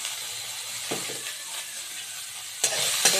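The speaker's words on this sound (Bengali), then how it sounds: "একটু নেড়ে চেড়ে" Tomatoes with salt and turmeric are stirred in a pan, giving a steady hiss of sizzling and a few brief scrapes from the spoon near the end.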